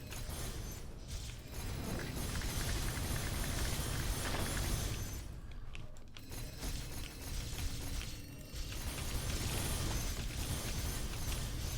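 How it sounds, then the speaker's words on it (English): Explosions in the video game Magicraft during a poison spell build, a dense, loud run of crackling bursts and pops filling the whole stretch, with brief dips between volleys. "massive explosions"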